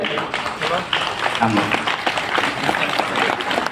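Audience applause during a speech about Sai Properties, a dense wash of clapping hands sustained through the whole moment, fairly loud and close, with a voice speaking over it.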